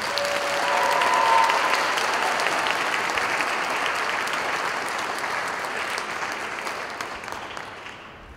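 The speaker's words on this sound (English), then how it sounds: "So please, a round of applause." An audience claps warmly at a high school spring choral concert, a full steady round of applause that swells early and slowly tapers off over several seconds.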